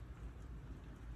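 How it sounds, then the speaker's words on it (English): Steady rain falls outdoors by a patio in Orlando, a dense, even wash of drops with a low rumble underneath. No one speaks. "It's raining in Orlando today"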